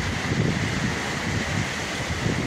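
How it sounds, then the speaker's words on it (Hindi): Strong gusty storm wind with light rain, a continuous loud, broadband rushing roar that holds steady without breaks and no voices. "देखिए कितनी तेज़ हवाएं चलती हैं।"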